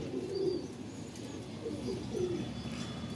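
Pigeons roosting in their nesting spot coo softly and repeatedly, the low throaty calls rising and falling over a constant background hum.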